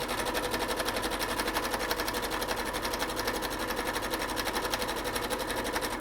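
Sewing machine stitching a fabric face mask, a close, continuous rapid mechanical whir with an even needle beat throughout and no talking.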